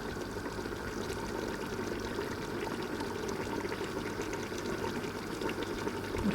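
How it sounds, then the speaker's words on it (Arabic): Water poured into a pot of freekeh soup with meat and celery, a steady close splashing stream that continues throughout without talk. "وهنايا يعني زدت لها الماء، نقعدو نزيدو هكذا حتى يطيب اللحم."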